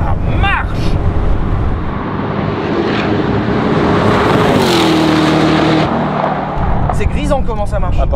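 A Ford GT supercar's American V8 engine pulls hard under acceleration, a loud in-cabin roar that climbs steadily in pitch before easing off, with people talking over it.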